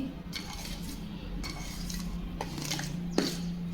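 Flour dough is mixed with hot oil in a bowl using a utensil, giving soft scraping and stirring strokes with occasional light clinks against the bowl.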